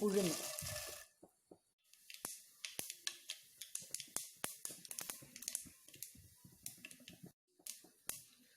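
Mustard seeds pop and splutter in hot oil as a rapid, irregular series of sharp crackles, close and fairly quiet, after a brief sizzle, while tempering for vegetable upma.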